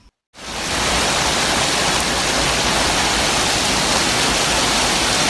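Heavy thunderstorm rain pours in Amiens as a loud, dense, continuous hiss that starts abruptly after a brief quiet moment and holds steady throughout, with no distinct thunderclap.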